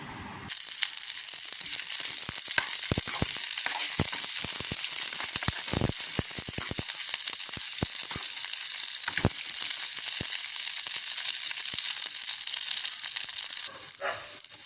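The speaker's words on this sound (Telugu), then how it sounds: "కరివేపాకు వేసుకొని, అలాగే ఆయిల్ వేసేసుకొని స్టవ్ లో ఫ్లేమ్లో ఉంచుకొని ఫ్రై చేసుకుందాం" Curry leaves fry in oil over a stove flame, giving a dense, even hiss of sizzling with scattered sharp pops and crackles throughout.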